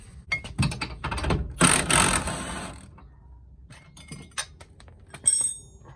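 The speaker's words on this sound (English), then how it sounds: "So to remove the camber arm, we just got to remove this bolt, that bolt, and it should come right off." Bolts being loosened from a car's camber arm during suspension work, with close metallic clinks and ratcheting bursts, a busier spell in the first few seconds, then sparser taps and clicks.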